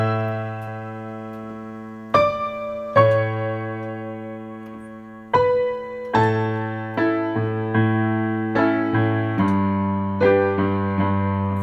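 Sustained piano chords ring out one after another in a slow, gentle progression, each struck and left to decay, with no voices.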